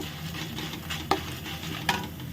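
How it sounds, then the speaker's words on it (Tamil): Urad dal frying in hot oil for lemon rice, a steady close sizzle with two brief utensil clinks against the pan and no talk. "பொரியட்டும்"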